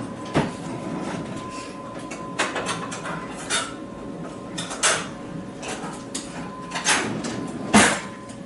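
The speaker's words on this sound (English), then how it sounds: "I'm going to go ahead and cut a slice because it's really soft inside" A knife sawing through a slice of soft no-knead bread with a hard crusty top, a series of rough scraping strokes and crunchy bursts recurring every second or so, close up.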